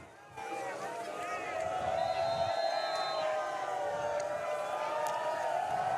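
Big homecoming crowd at a high school varsity football game between South Tama and Center Point-Urbana, heard from the press box as a sustained, swelling cheer with a whistle-like tone riding over the noise.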